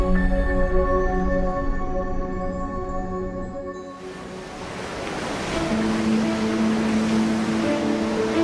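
The 3,000-ton ship Stril Explorer under way at sea at about 6 knots, a steady rush of waves and water along the hull with a broad, continuous wash, alone and fairly loud.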